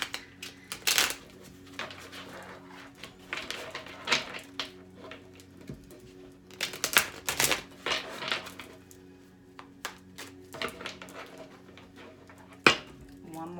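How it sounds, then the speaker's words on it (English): Tarot cards are shuffled in short bursts of riffling and soft slapping, near and fairly quiet, separated by pauses of near silence. "Let's do a couple shuffles ahead of time."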